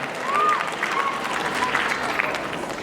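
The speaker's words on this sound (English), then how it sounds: "We give her a round of applause as well." Moderate applause from a high school audience at a Black History play, steady clapping with a few voices and cheers mixed in, fairly near and sustained.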